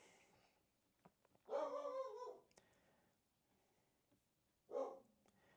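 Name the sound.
dog barking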